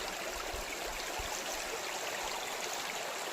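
A forest stream flowing in dense, uninhabited woodland, a steady broadband rush and gurgle of water that holds an even level throughout, close and with no voices.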